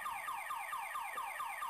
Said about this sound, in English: This motherfucker's still playing with the alarm.